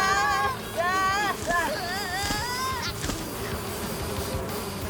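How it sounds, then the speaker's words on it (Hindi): Cartoon bees buzzing in a Hindi kids' cartoon, a steady droning hum under bright, warbling cartoon voices, continuing as a buzzy background after the voices stop. "बचो मधुमक्खियों से।"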